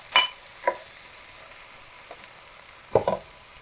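Vegetables and tomato paste sauté together in a pan, giving a few brief sizzling bursts and stirring scrapes spaced across the clip, fairly close and moderate in loudness, with no talk.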